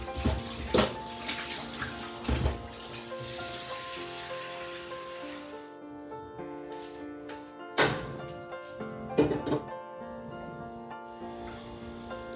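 Tap water gushes steadily into a cooking pot for rice in a home kitchen for about six seconds, then stops. Several sharp clanks of the pot follow in the quieter stretch.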